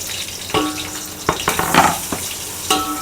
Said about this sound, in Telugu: తరిగి పెట్టుకున్న 2 ఆనియన్స్ వేస్తున్నాను.